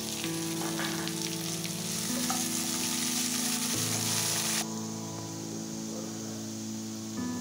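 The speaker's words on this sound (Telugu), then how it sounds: "ఇప్పుడు మనం ముందుగా కట్ చేసి పెట్టుకున్న ఆనియన్ ముక్కలను వేసుకుందాం." Chopped onions frying in oil in a pan for Telugu-style eggplant curry with peanut spice, giving a loud, continuous close sizzle that eases slightly partway through.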